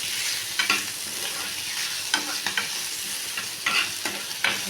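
Onions with turmeric sizzle steadily in a hot pan while a utensil scrapes and stirs in several short, rhythmic strokes, close and clear.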